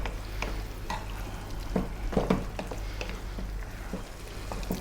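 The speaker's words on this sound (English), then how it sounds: "give it a stir every now and then" Spiced Arab-style beef stew being stirred in a pot, with scattered scraping and clinking strokes from a spoon over a steady low simmering hum, fairly close and moderate in level, with no talking.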